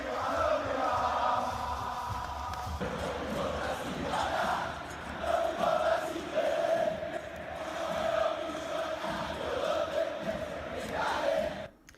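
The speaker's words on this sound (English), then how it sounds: "thousands of cheering fans lined up the streets of Dakar as the Lions of Teranga returned home" Fans cheering in the streets of Dakar, a large crowd roaring and chanting with rising and falling shouts and whoops over a dense murmur, sustained and moderately distant.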